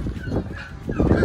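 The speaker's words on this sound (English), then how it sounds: "First two chickens going into their brand new home." Chickens being moved into a new coop built from a school bus, making short honking clucks and squawks close by in a brief burst.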